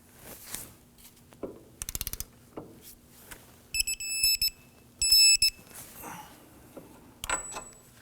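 A ratchet wrench works on the wheel hub bolt of a 2008-2011 Ford Focus during a front hub and bearing replacement, giving several bursts of rapid clicking separated by quieter gaps and small knocks.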